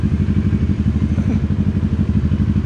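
A CFMoto 800MT adventure motorcycle engine idles close by with a steady, throbbing low pulse and a faint mechanical clatter.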